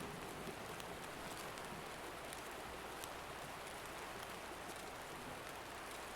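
Steady rain falling in the video game Escape From Tarkov, a faint, even hiss of drops with occasional light ticks, continuous and without talk.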